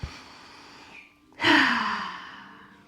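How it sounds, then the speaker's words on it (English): A person in an abs toning class draws a short breath, pauses, then lets out a long, loud, deep exhale close by. "Deep breaths."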